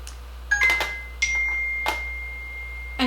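Phone notification chimes indoors: a few short, faint electronic dings and tones spaced about half a second apart in a quiet room.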